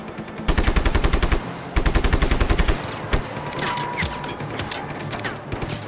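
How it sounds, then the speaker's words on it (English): Loud bursts of automatic gunfire from the video game Just Cause 3, two sustained rapid volleys followed by scattered single shots and rumbling explosion-like noise. "Who's shooting me?"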